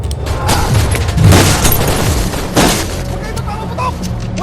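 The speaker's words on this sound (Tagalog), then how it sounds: "Paulit-ulit na palitan ng mga putok." Gunfire exchange from a Filipino action film, On the Job: booming shots and crackling bursts come in loud volleys, with heavier blasts around the middle and a dense rumble between them.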